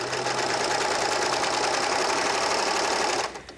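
A Baby Lock serger stitches and trims fabric with a steady, fast mechanical whir and motor hum, running continuously up close before stopping abruptly near the end.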